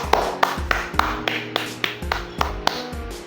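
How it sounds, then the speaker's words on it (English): Clapping in a classroom after an English lesson, heard as about a dozen sharp, evenly spaced claps in a steady rhythm over a low, constant background hum. "So give applause to all of you."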